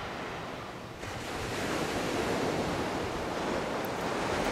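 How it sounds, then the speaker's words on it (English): Ocean surf rolls in continuously at a sunrise shoreline, a broad roaring wash of breaking waves that swells slightly louder after the first second, with light wind on the microphone and no voices. "We know this language of the ocean, the surf and the wave action."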